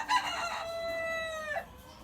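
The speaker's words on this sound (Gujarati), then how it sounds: "એ કુકડો હતો?" A rooster crows once close by, a loud drawn-out cock-a-doodle-doo lasting about a second and a half, clear and alone with no voices over it.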